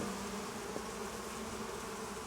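Honeybees buzz in an open beehive full of brood, a steady, close, dense hum that holds at an even level throughout, with no voices.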